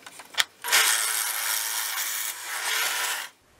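A drill press fitted with a Kreg jig bores into wood to cut a plug, giving a short tap and then a steady, harsh grinding cut of about two and a half seconds that stops abruptly.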